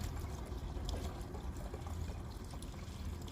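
Liquid rabbit poo and hay tea pours steadily into a net-covered bucket, a continuous close splashing and trickling wash with no voices over it.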